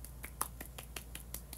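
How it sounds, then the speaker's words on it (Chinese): Quick, light hand claps during a livestream, about eight sharp, snappy taps in a fairly even rhythm, quiet and close, with no speech over them. "你在这里为什么拍手？"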